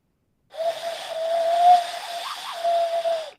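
A mourning dove call imitated by blowing through cupped hands, heard as one steady breathy hooting tone about three seconds long, with a slight wavering near the end, close and alone.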